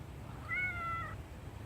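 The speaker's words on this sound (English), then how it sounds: "What's Kitty say?" A single drawn-out cat meow, close and fairly faint, over a low steady background hum.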